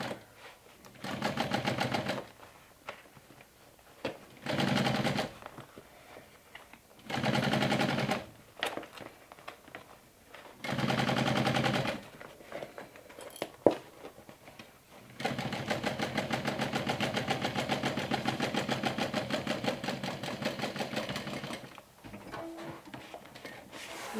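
A home sewing machine runs top stitching through many thick fabric layers on a mini backpack in several close bursts, short runs separated by pauses, then one long steady run near the end.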